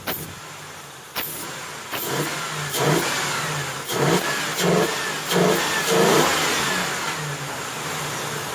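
A Lincoln Town Car prepared for a demolition derby revs its engine in a series of short bursts, roughly once a second, each rising and falling over a steady idle, with no voices.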